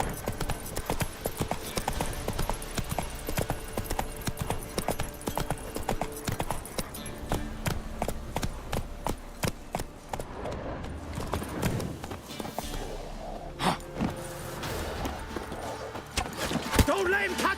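Hooves of Geralt's horse Roach pound in a fast, continuous galloping rhythm in The Witcher 3, close and prominent, with game combat noise and voices mixed in around the running.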